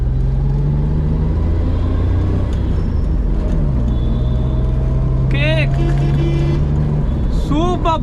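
Maruti 800, the first model of the car with non-power steering, driving along with a steady low engine and road hum. Someone talks throughout and brief squeaky tones appear near the end.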